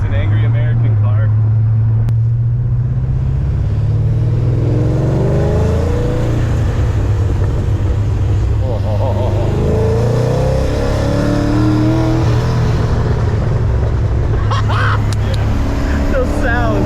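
An LS V8-swapped Infiniti G35 roars loudly from inside the cabin as it accelerates through the gears, the deep engine note rising and falling with each rev and shift while people talk over it.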